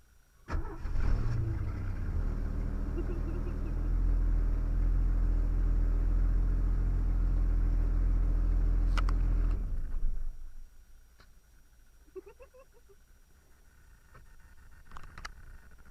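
A DIY budget hot rod called Project Spirit drives along the road, its engine rumbling loud and steady for about ten seconds before fading as it moves off, leaving faint distant traffic.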